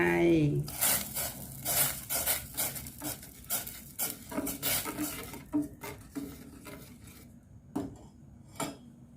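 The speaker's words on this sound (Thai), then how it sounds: "แล้วก็ใส่ พริกแกงลงไปคั่วนะคะ" A utensil scrapes and clatters against a pot in irregular strokes while red curry paste sizzles softly in thin coconut milk underneath, close up.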